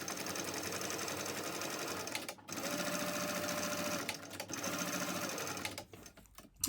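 A sewing machine top stitches a mini backpack, running in steady continuous bursts with a brief pause mid-way and a short stop near the end, close and fairly quiet.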